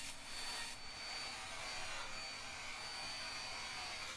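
A bandsaw cuts slowly through wood for a ram skull sculpture, shortly before the saw breaks, a steady, fairly quiet broadband hiss and whir with a brief louder burst at the start and no talk.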